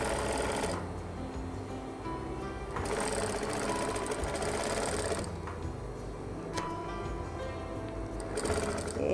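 A sewing machine stitches an elastic waistband onto a layered skirt, running in rapid mechanical bursts of a few seconds each, separated by short pauses, close and clear.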